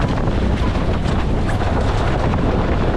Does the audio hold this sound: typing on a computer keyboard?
no